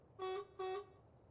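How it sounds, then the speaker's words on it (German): Vehicle horn in the military base game One Military Camp, two short honks in quick succession that are loud and close and stand alone over a low background. "Was gibt's da schon wieder zu hupen?"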